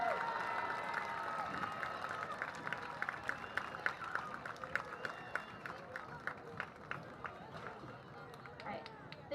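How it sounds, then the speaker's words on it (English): A stadium crowd at a high school varsity football game applauds the seniors and their families, a steady wash of clapping and cheering that carries on for several seconds with a voice in the background. "Let's give one loud round of applause to all of these seniors that stand before you"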